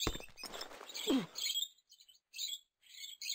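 Birds in the video game Quadrilateral Cowboy: short, high, quick chirps repeating in small bursts, faint and clear after a brief muddy stretch of other game sound.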